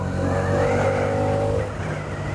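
A 2024 Hero Karizma XMR motorcycle engine revs steadily and close by, its pitch climbing briefly then easing off, with no talk over it.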